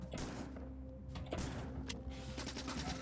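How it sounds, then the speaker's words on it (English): Shotgun blasts in the Factorio video game, a few sharp bursts at irregular intervals over steady game background noise. "I'm going to tab to the shotgun."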